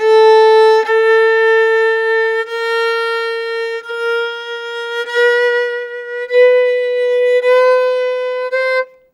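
A sequence of sustained tones, each stepping a quarter tone from the last, played smoothly and loudly with bright overtones over about nine seconds, no voices.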